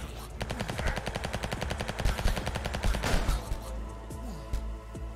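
Gunfire in the indie game Neon Blight on Nintendo Switch: a loud, rapid machine-gun stream of evenly spaced shots, with brief pauses, that tapers off into quieter scattered pops at the end.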